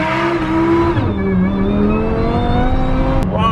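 A Rolls-Royce Ghost with rear-wheel drive accelerates hard, its engine note loud and close, climbing in a smooth continuous surge without a break and with no voices.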